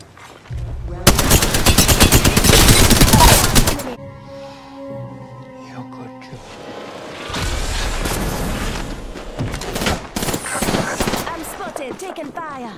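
Rapid automatic gunfire bursts loudly in an Apex Legends match, one long sustained volley followed by further bursts and impacts, with game voices and tonal effects in between.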